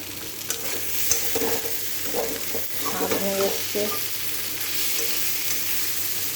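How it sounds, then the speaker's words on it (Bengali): Spice paste frying in a pan for a thin fish curry, with a steady broadband sizzle and some stirring scrapes; a brief voice speaks partway through. "মশলা একটু ভালো করে ভেজে নিই।"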